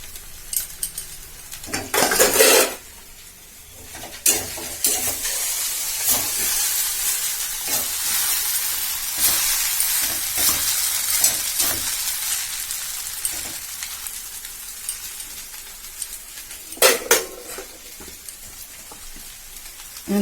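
Food fries with a loud, steady hiss as it is stirred in a pan, with a few scraping, clattering bursts near the start and again toward the end.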